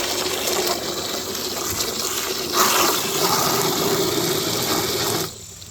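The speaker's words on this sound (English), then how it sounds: "So, I'm gonna fill this up, not all the way, just enough to get some water going." Water gushes steadily into a bucket with a constant rushing noise, then cuts off abruptly near the end.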